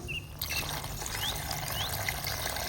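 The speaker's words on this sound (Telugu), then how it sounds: "ఇప్పుడు ఇందులో వాటర్ యాడ్ చేస్తున్నాను ఫ్రెండ్స్" Water poured into a pan of frying guinea fowl chicken curry masala, a steady close trickle and splash lasting a few seconds with a soft hiss beneath.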